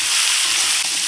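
Pieces of bitter gourd (ustey) and potato fry lightly in hot oil with onion, garlic, turmeric and salt, giving a loud, continuous sizzle with no talking.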